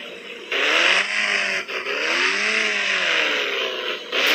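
A car or motorbike engine revs and accelerates steadily in the Indian Bike driving game, with rising and falling harmonic engine tones, a brief dip midway, and no talking.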